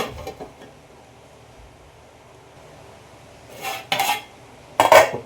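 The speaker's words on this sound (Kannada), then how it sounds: "ಈಗ ಒಂದು ಪ್ಲೇಟ್ನ ಕ್ಲೋಸ್ ಮಾಡಿ ಇಡೋಣ ಅಂತೆ" A metal plate is set over a pan of carrot halwa as a lid, giving two bright clattering clanks near the end after a quiet stretch with faint kitchen scraping at the start.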